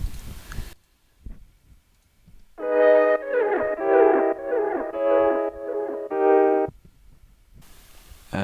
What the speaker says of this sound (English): And next we have this flute sample,